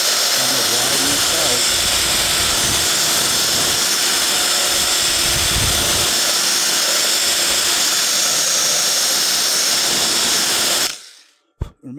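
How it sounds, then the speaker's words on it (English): A drill fitted with a burring tool grinds out a guitar's jack cavity, a loud steady whine with rough buzzing that runs almost twelve seconds before cutting off abruptly. "I just got a burring tool in my drill here"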